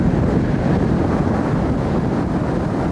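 Strong wind buffets the microphone outdoors inland, away from a sandy beach, producing a steady, loud, rumbling roar that fills the whole stretch with no other sounds.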